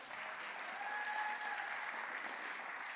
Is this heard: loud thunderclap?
no